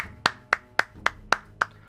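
Six sharp claps from a clapping emote in Hearthstone, in a steady, even rhythm, close and crisp, with nothing else around them.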